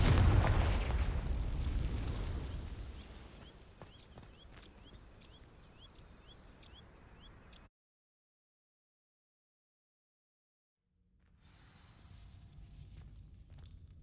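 Confringo fire spell igniting dry vines in Hogwarts Legacy, a loud fiery burst at the start that fades into crackling burning noise with faint tinkling chimes, then silence before a softer rumble returns near the end.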